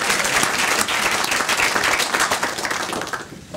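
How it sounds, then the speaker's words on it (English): Audience applause at a talk on fighting pharmaceutical crime, a dense, steady round of clapping from a crowd that carries on for several seconds and thins out near the end. "Round of applause, please."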